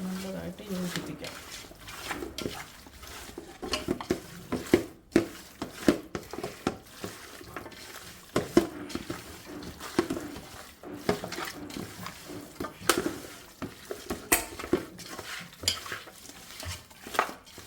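A spoon stirs and mixes food in a cooking pot, producing irregular scrapes and clinks of utensil against metal. The stirring is close and moderately loud, and a person talks throughout.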